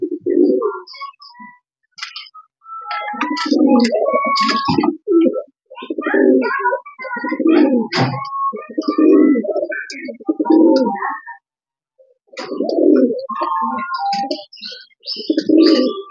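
Racing pigeons at a home loft coo in repeated soft, throaty bursts, several birds overlapping close by with brief pauses between phrases and occasional light chirps.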